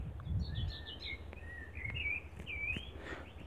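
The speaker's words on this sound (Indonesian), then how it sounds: "Nah, kita bisa mendengarkan juga suara burung." Songbirds chirp and whistle among trees beside potato fields, several bright warbling calls spread across a few seconds, fairly close and clear over low outdoor rumble.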